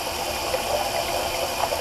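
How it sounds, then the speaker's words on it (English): Tap water running into a sink at a shaving basin, a steady even hiss of flowing water, continuous and moderately close for the whole moment. "while I got the water running."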